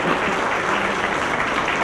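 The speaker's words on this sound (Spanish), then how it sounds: "Brindemos un fuerte aplauso a los diplomantes" An audience at a diploma-course closing ceremony applauds the graduates, a brief, loud, continuous burst of many hands clapping.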